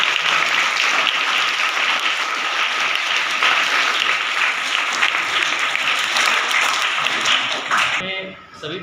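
Sustained, loud applause from a crowd of schoolchildren at a government high school event, dense steady clapping filling the whole stretch before cutting off abruptly near the end.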